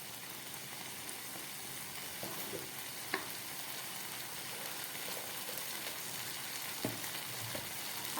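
Ash gourd curry with shrimp, made with very little oil, frying in a pan: a soft, steady sizzling hiss that carries on evenly, with a few faint utensil taps and no voices.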